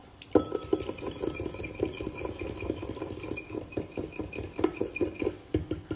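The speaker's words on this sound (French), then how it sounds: "je mélange mes œufs que j'ai pas battus avant" Eggs being beaten in a bowl for muffin batter, a quick continuous rhythm of utensil clinks and scrapes against the bowl, close and fairly loud, no voices.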